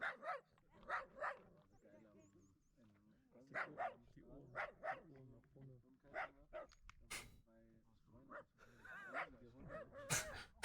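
A dog on a vacation outing barks repeatedly in short, irregular bursts of barks and yips with some whimpering, fairly close and loud, separated by quieter gaps.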